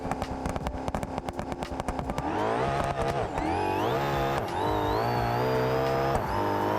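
A drag racing car in a video game roars down the strip, engine revving hard through rising gear changes, loud and steady with a shifting whine, no talking.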